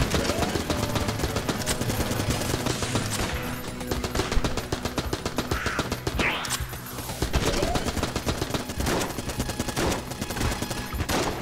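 Continuous rapid AK rifle fire in the video game Enter the Gungeon, rattling without pause under busy game sound effects and a few swooshing tones.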